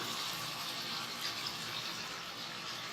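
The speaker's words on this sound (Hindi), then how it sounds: "ये अब मैं इसमें थोड़ा सा पानी ऐड करूँगी।" Water poured into a pan of chicken curry during home cooking, a steady, even running-water hiss that fills the whole stretch without pause at moderate level.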